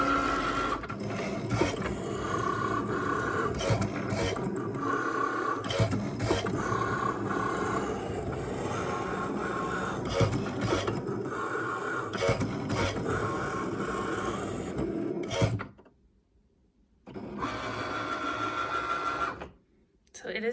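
A Cricut Maker cuts fabric with its rotary blade, a steady close mechanical whirring and rhythmic carriage movement that runs on and then cuts off near the end, with a voice speaking over it.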